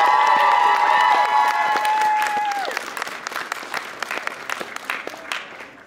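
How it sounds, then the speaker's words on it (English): Audience applause at a Star Trek convention panel, a loud sustained burst of clapping from a crowd that gradually thins out toward the end. "Give him a round of applause, please."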